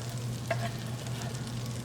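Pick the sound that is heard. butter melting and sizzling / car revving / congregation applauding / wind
butter melting and sizzling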